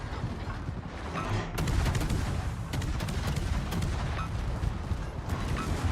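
Warship guns fire across a naval video game battle, a dense rolling barrage of booms and sharp cracks under a constant low rumble, loud and continuous without pause.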